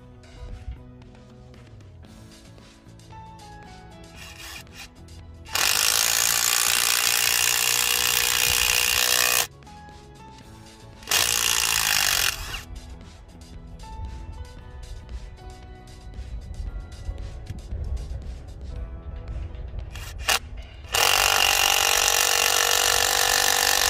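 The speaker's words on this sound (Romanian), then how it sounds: "o să punem un torx de 40 și vom înfileta acest șurub" A Parkside Performance 20V cordless impact driver set to 226 Nm drives a screw with a Torx 40 bit. Loud rapid hammering bursts come in three separate runs, each several seconds long, with quieter gaps between them.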